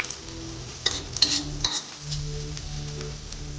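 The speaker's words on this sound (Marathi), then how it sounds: "तर इथे आपला कांदा भाजत आलाय." Onions frying in a pan while a spoon stirs them, a steady sizzle under scraping strokes and a few metallic clinks against the pan, close and moderately loud.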